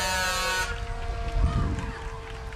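A fire truck air horn blasts loud and steady at the Hampton Holly Days Parade, cutting off abruptly after under a second, followed by parade crowd noise and muffled rumbling.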